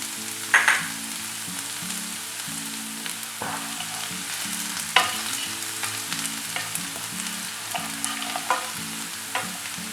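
Garlic and dried red chillies sizzle steadily in hot oil, with a few stirring scrapes and clinks of a spoon against the pan, close and fairly loud, with no talking.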